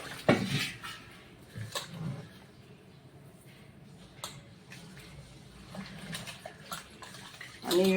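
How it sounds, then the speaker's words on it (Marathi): Rice and urad dal rinsed in water in a kitchen vessel, with soft sloshing and swirling, occasional clinks of the pot and splashes as water is poured off, fairly close and moderate in level. "तांदूळ ना डाळ स्वच्छ धुवून घेते"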